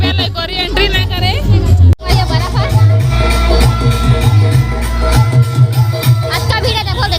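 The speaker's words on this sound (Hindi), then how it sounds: "आज का भीड़ देखो" A crowd of pilgrims throngs a temple, a loud, steady hubbub of many voices and chatter close around, with a brief dropout midway before the babble resumes.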